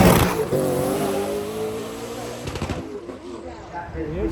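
A twin-turbo F5 car at the Goodwood Festival of Speed drives past nearby with a loud engine drone that fades as it pulls away, while people talk over it.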